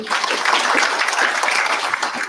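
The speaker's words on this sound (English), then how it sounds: "Another round of applause, kindly" Brisk, steady applause from a conference audience in a hotel hall, a dense continuous patter of many hands clapping at close range for a couple of seconds.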